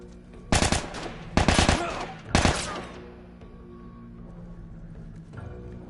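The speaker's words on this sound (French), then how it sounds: "ça tire à balles réelles" In the video game The Last of Us, three short, sharp bursts of gunfire ring out about a second apart, loud and close, followed by a dimmer, quieter stretch of game ambience.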